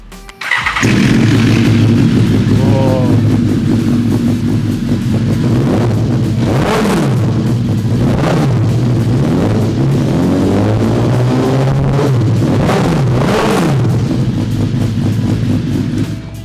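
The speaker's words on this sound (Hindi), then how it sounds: "BMW S1000 RR की आवाज़ सुनाते हैं, जिसमें आक्रापोविच के एग्जॉस्ट सिस्टम लगा हुआ है, फुल सिस्टम" A BMW S1000RR superbike fitted with a full Akrapovic exhaust system starts up and idles loudly up close, blipped several times into sharp revs that rise and fall, with no talking.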